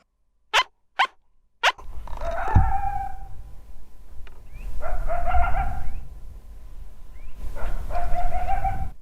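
A coyote calls back from a swamp during a hunt in Canada: three sharp barks, then long wavering howls and yips that rise and fall in two drawn-out bouts, fairly near and loud, with no talk.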